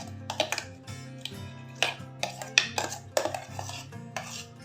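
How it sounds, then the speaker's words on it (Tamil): Mango pieces being mixed into cream in a bowl: light irregular clinks and taps of a utensil against the bowl, fairly quiet and close, with soft wet mixing between strikes. "இந்த க்ரீமோட இந்த மாம்பழத்தை கலந்துடலாம்"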